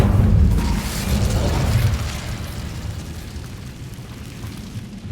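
A fire spell cast in a Harry Potter video game erupts in a loud whooshing burst of flame that roars at first, then fades into a sustained crackling rumble, with no talk over it.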